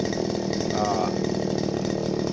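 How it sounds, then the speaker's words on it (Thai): A genuine Makita 411 power cutter running steadily with a deep, mellow engine drone, continuous and close, with a voice talking faintly over it. "ตามสไตล์ของมาคิต้านะครับ เสียงจะทุ้มๆ นุ่มลึกนะครับ"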